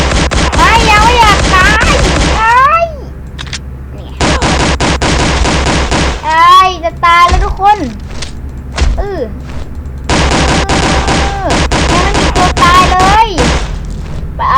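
Rapid bursts of gunfire in a zombie video game, loud and dense, in several volleys separated by short gaps, with game voices or sound effects sweeping in between and talk over it.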